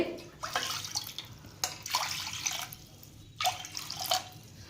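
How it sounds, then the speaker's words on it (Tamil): Water is poured into a pressure cooker to cook foxtail millet, four cups in all. It comes in short, faint splashing bursts with dripping between them. "அதே கப்பில் நாலு கப்பு தண்ணி சேர்த்திக்கோணுங்க திணை அரிசி வேக வைக்கிறதுக்கு"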